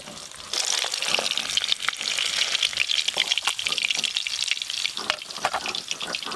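Pabda fish frying in a pan of oil, a steady loud sizzle and crackle throughout, with occasional sharper pops and light spatter, no voices.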